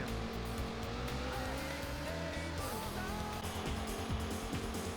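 Sega Saturn racing game Daytona USA plays continuously: a loud, steady race-car engine drone with squealing tires during drifts and power slides.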